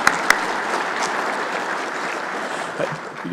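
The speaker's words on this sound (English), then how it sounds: "Give her a round of applause, too." A round of applause from the audience at an annual leadership dinner: dense, steady clapping sustained for several seconds, with a couple of sharp individual claps standing out at the start.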